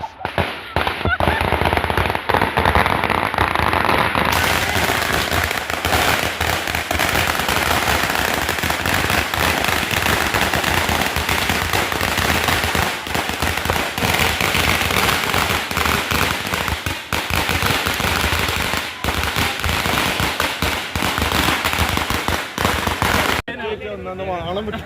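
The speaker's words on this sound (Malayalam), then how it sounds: "ഇവിടെ വെടിക്കെട്ടാണ് ഗൈസ്" Dense, nonstop crackling of firecrackers and fireworks at a Diwali celebration at Banaras Hindu University in Varanasi, loud and rapid like gunfire, with voices faintly mixed in.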